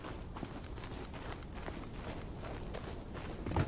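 Character footsteps run across a parking lot in the video game Days Gone, a quick, steady patter of light thuds over a constant background hum, with no voices.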